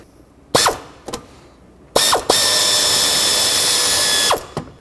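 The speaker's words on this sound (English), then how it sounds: "Drop a 10mm socket on there and then try to break it free." A ratchet with a 10mm socket breaks loose the nut holding the transmission dipstick tube on a 2003-2021 Chevrolet Express van. A few sharp clicks come first, then a long steady run of close, loud ratcheting before it stops.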